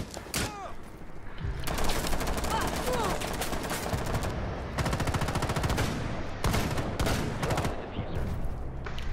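Rapid automatic gunfire from hip-firing a gun in Rainbow Six Siege, with dense sustained bursts broken by short pauses and loud, close shots.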